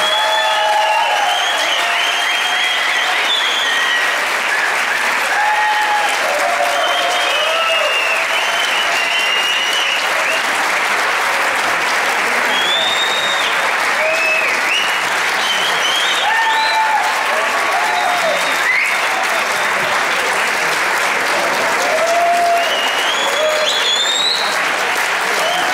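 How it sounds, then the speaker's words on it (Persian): A seated audience at a talk on free-software economics bursts into loud, sustained applause, dense clapping with a few cheers that fills the hall for the full stretch. "تشویقشون بکنم."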